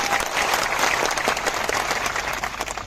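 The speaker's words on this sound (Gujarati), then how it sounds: "એમના માટે તાળીઓ પાડી." An audience at a large Congress political gathering in Bharuch, Gujarat claps steadily for about three seconds, a dense, even patter of applause at moderate loudness with no talking over it.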